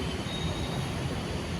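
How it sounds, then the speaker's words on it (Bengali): A train arriving at a station platform, a steady broad rumble of rolling wagons with faint wheel squeal, moderately distant and continuous through the short moment. "ট্রেন আসুক"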